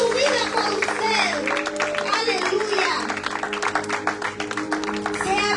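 A church congregation applauding: sustained crowd clapping under a loud amplified voice leading the room, with music playing alongside, continuous through the whole stretch.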